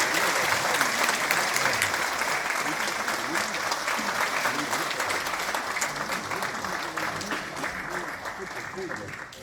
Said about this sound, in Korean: 장관님께 다시 한번 큰 박수 부탁드립니다